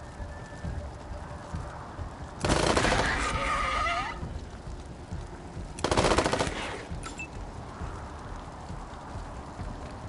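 Automatic gunfire in the video game Wasteland 3 rattles in two bursts of a second or so each, moderately loud over quiet background game sounds, with no talking.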